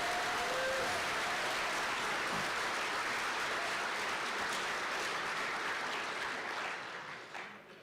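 Audience applause at an annual student design competition banquet honoring silver level sponsors, a dense sustained clapping from a large room crowd that continues steadily and fades out at the end.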